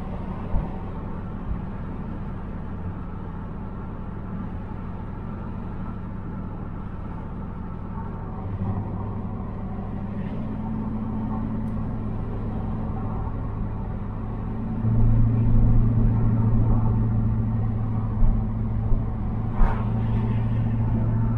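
A 1985 Camaro IROC-Z drives over a rough road, with a steady, close interior engine and road rumble that swells slightly partway through, plus a few faint knocks and rattles.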